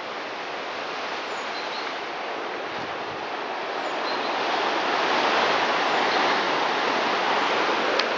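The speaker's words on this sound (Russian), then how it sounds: "Во как море шумит." The sea roars continuously beside a park path in Vorontsov Park, a broad, steady wash of surf that swells slightly louder toward the end, with no speech.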